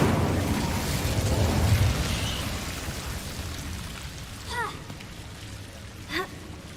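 A fire spell is cast in Hogwarts Legacy with a low rumbling burst of flame that fades into crackling, followed by two short bright magical chimes.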